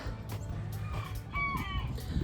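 Backyard chickens cluck in a mulched chicken run, a few short calls rising near the middle over a low background rumble.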